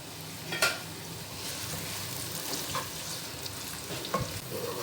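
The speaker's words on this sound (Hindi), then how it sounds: "प्याज को आप अच्छा सा गोल्डन ब्राउन कर लें।" Onions frying toward golden brown in a pan give a steady, close sizzle, with a few clear scrapes of a spoon stirring them through the hot oil.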